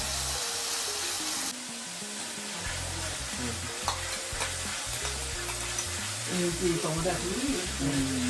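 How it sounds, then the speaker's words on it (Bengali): Spice paste with cumin and coriander powder being stir-fried for chicken kosha, a steady close sizzle with scraping stirs, while voices and a low hum sound in the background. "এখন মশলা কষানো চলছে।"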